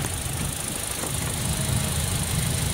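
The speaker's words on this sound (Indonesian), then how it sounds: "lihat suaranya gimana ya. Nah, masih sangat halus, kondisi mesin aman" A 2017 Toyota Kijang Innova Reborn manual with a petrol engine idles smoothly, a steady low hum with faint mechanical rattle heard close up and no talking over it.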